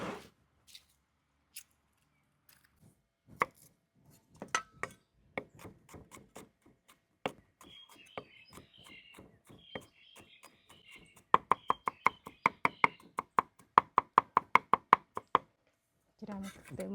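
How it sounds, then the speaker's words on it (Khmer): Garlic being pounded for cooking in a rural kitchen: sharp, close knocks, sparse at first, then a fast, steady run of rhythmic thuds, with a voice speaking at times. "ច្រាំខ្ទឹមហើយដាក់ក្នុងឆ្នាំង"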